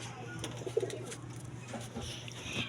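A pigeon coos once, a short soft burst of low murmuring calls close by and faint, over a quiet background hum.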